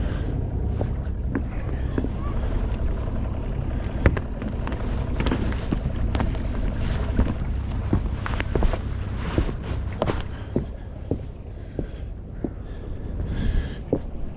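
Water trickling and lapping under a sailing boat at sea on the Solent, a soft continuous wash with scattered small splashes and clicks, under light wind noise, no engine.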